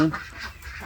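A short, raspy quack from a female duck at the start, then quieter rough background noise for under a second.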